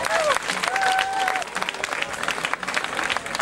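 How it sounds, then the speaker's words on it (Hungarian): Audience applause at a village festival day in Csengele, Hungary: a dense burst of clapping with a few whistles, loud at first and then thinning out as voices talk and call out over it. "Na most tapsoljatok!"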